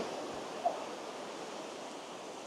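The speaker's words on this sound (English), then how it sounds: "These waves are starting to come in very slowly there." Ocean waves roll in slowly on a beach, heard as a steady, even wash of surf noise with one brief tick, at moderate distance and with no voices.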